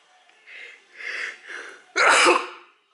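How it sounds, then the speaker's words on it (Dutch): A person sneezes after a few short wheezy breaths building up, ending in one loud, sharp sneeze burst up close indoors. "Ik moet niezen."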